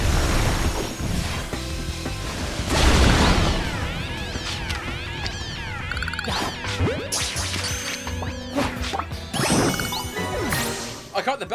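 In Pokémon Legends Z-A, catching a Beldum brings bright chiming dings layered over swooshes, thwacks and sparkling game effects, loud and busy across several seconds.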